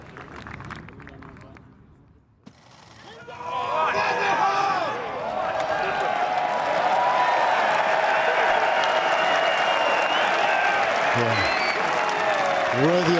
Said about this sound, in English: Worthy applause, because all the people up on that bank knew just how difficult that shot was.